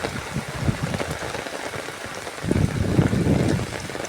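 Heavy rain pours steadily over flooded paddy fields, a dense, even hiss of drops that swells louder in the second half, with no voices.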